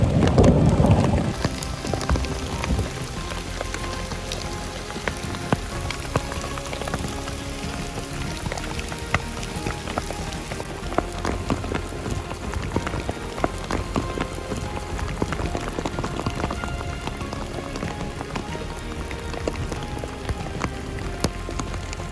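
Hail and rain pelt a tarp sheltering a Sierra campsite during a mountain storm, a dense, close, continuous drumming that holds steady throughout with no voices.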